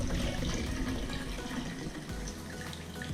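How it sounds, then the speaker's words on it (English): Warm water running and sloshing as a microfiber cloth is dipped in for cleaning a helmet, a steady close splashing wash that fills the short stretch without talk. "you can dip this microfiber cloth into nice warm water"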